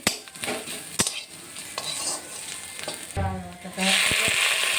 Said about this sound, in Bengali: লঙ্কা পেঁয়াজটা ভালো করে ভেজে নিচ্ছি।